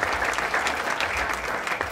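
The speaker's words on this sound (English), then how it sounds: "And a huge round of applause for Mr. Patrick Hayes, our photographer." A crowd at a West Boylston Athletic Hall of Fame induction ceremony claps steadily, with full, even applause that fills the whole short stretch at a constant level.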